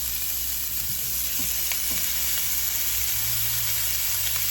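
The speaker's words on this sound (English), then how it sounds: "we're just gonna go ahead and just break up our ground beef" Ground beef sizzling in a dry pan with no oil as it is broken up for baked spaghetti, a steady, loud frying hiss with occasional scraping taps of a utensil, no voices.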